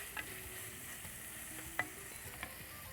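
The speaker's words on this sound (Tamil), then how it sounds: "இதில் நான் தக்காளியை பிழிஞ்ச மாதிரி போட்டுறேன். இதையும் போட்டு நல்லா வதக்கலாம்." Squeezed, crushed tomatoes sauté in a pan with a faint, steady background sizzle and a few soft clicks of a spoon against the pan, with no voices.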